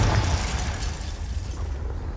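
A Confringo blasting spell detonates in Hogwarts Legacy, a loud, close, roaring explosion with a sustained rumbling burst that fills the short moment without pause.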